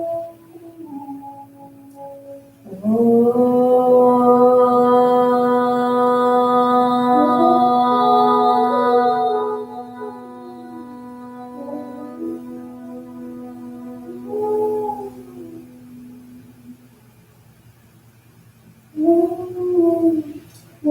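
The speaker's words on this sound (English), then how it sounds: "We'll begin chanting at the next inhale." A single deep, sustained om chant drone swells and holds for several seconds, then fades. Quieter hums and a final short chanted tone follow.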